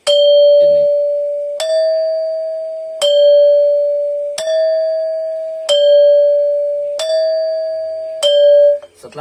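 Seven clear ringing strokes on a Balinese gangsa metallophone, each note cut cleanly by damping just as the next one sounds, played at a slow steady tempo, close and loud with no talk.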